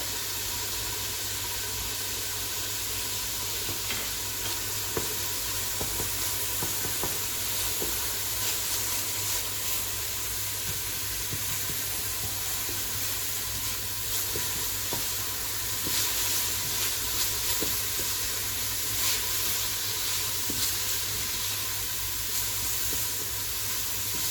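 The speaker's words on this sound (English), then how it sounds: "Now she's gonna add the garlic." Garlic sizzles in a hot frying pan, a steady, close hiss of frying that holds even and unbroken for the whole stretch, with occasional faint stirring ticks and no talking.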